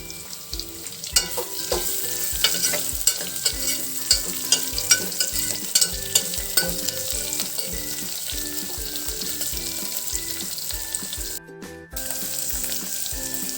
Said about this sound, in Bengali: রসুনটা লাল লাল ভাজা হওয়ার পরে পেঁয়াজ আর লঙ্কাটা দিয়ে দিচ্ছি।